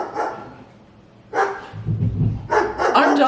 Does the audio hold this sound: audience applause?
no